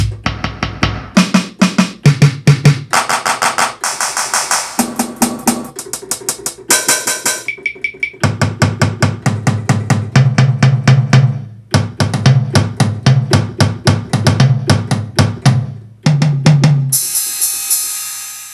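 Drum beat programmed in Pro Tools with each drum routed to its own track: loud, punchy rhythmic hits with kicks, snares and cymbals in a steady pattern, with brief gaps and a final burst, no talking.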